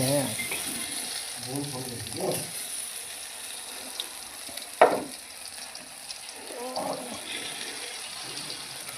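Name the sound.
potatoes frying in a hot kadai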